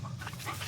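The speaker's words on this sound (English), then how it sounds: "My dog." A dog pants quickly and close by with short, breathy rhythmic huffs. A faint whimper sits underneath the panting.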